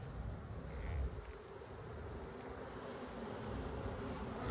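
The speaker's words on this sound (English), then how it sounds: "These are all a bunch of worker bees." Worker honeybees at an open hive produce a dense, steady buzzing hum that fills the scene without pause.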